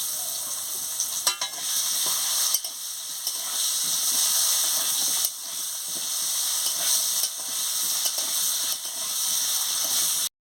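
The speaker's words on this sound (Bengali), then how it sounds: "এবার একটু নুন দিয়ে আলুটাকে ভেজে নিচ্ছি।" Potatoes fry with salt in a pan, hissing and sizzling steadily, with a few soft stirring scrapes and brief clicks breaking through the continuous crackle.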